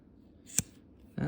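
Scissors snip through cord while making a shepherd's sling, with two crisp, close cuts about half a second apart.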